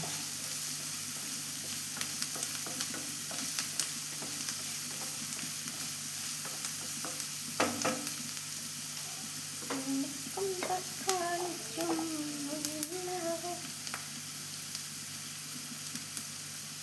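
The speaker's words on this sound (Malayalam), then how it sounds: "ഉള്ളി ഇട്ടതിന് ശേഷം ഒന്ന് ഇളക്കി കഴിഞ്ഞിട്ട് നമുക്ക് തക്കാളി ഇട്ട് കൊടുക്കാം" Onions and tomatoes frying in a pan for egg masala upperi, with a constant soft sizzle and intermittent scraping of a spoon stirring, close and quiet.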